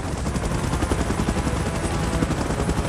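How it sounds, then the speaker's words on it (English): A helicopter in the PUBG video game drones with a steady rapid rotor chop throughout, loud and continuous, with no talking over it. "Chopper in position."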